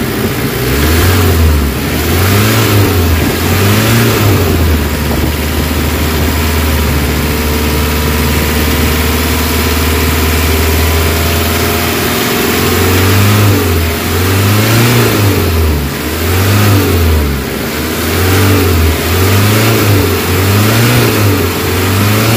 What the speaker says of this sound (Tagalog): So pataasan ko lang yung RPM para mas maganda yung